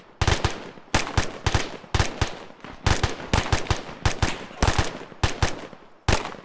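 Automatic gunfire in a military video game close-quarters training session, repeated short bursts of sharp, loud shots in an irregular rhythm across several seconds, close to the listener and without talk.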